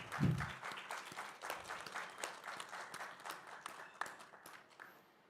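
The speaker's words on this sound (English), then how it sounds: "A big round of applause for all of them" A conference audience gives a round of applause for a panel at a medtech expo, with steady clapping that slowly thins out toward the end after a brief voice at the start.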